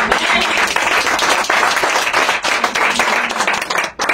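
Congregation applauding in a church, a dense, steady burst of many hands clapping close and loud for about four seconds before tailing off abruptly at the end.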